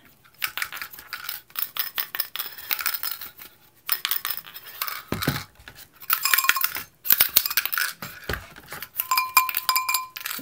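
Pokemon TCG Pokeball tins shaken by hand, bright metallic rattling and clinking of loose contents inside, in repeated bursts with short pauses, close and moderately loud, no voice.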